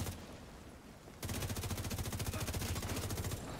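Rapid automatic gunfire in The Division 2, a quieter rattle at first, then a loud steady burst of closely spaced shots lasting several seconds, with no talk.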